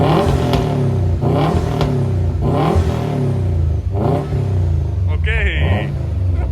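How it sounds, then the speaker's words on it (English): A Subaru engine with its transmission removed is revved hard several times in a row, each rev climbing in pitch then dropping back, loud and close. "Callum, give them some revs."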